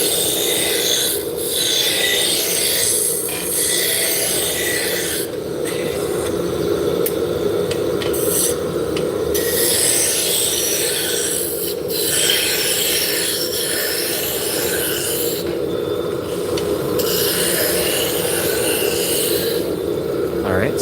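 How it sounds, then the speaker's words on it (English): On a lathe, a roughing gouge shapes an oversized wooden drop spindle blank, producing steady close scraping and rasping with recurring sharper bursts of cutting over a constant motor hum. "So I was using my roughing gouge."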